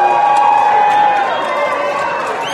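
An audience in a conference hall boos loudly at a man tearing up a book, a dense, sustained wall of crowd voices that holds steady and then eases slightly toward the end.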